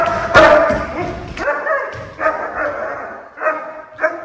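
A young working dog barks and yips during K9 bite training. Short loud barks come in a loose series with whimpers between them, close to the listener and with no speech.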